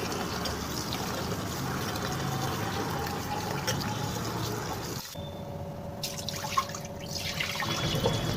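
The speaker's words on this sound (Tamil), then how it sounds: "நம்ம பச்சரிசியை நல்லா தண்ணி விட்டு 3 தடவை வாஷ் பண்ணி எடுத்தாச்சு." Raw rice is washed by hand in water: steady swishing and sloshing for several seconds, then a brief pause, followed by dripping and trickling water, close up with no talk.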